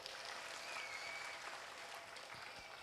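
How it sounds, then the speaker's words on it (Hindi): Audience clapping fills a comedy show hall, a steady dense wash of applause lasting a few seconds with no voices on top. "एक बार जोरदार तालियां होनी चाहिए"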